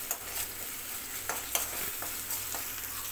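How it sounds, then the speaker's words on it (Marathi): Green chilli paste sautéing in a pan for street-style anda ghotala, a steady soft sizzle with a few light scrapes of stirring, faint and close, no talk. "आपली हिरवी मिरचीची पेस्ट पण व्यवस्थित परतली गेली"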